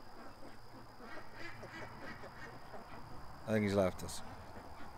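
Ducks quack in a short, loud burst near the end, close by, over a low outdoor background while a person talks quietly.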